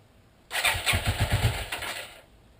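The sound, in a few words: 1984 Yamaha Maxim 400 motorcycle engine starting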